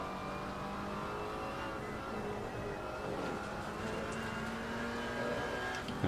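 A BMW GT4 race car engine in Assetto Corsa Competizione at Spa, a steady mid-pitched drone holding an even pitch, then rising slightly near the end, with no talk over it.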